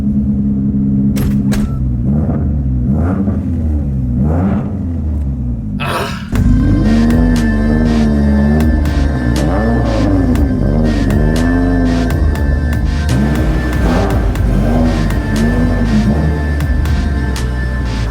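A widebody Mitsubishi Evo X engine revs hard toward redline, a loud close rumble that climbs and falls in pitch with a sharp jump in intensity partway through, steady and dominant with no talking.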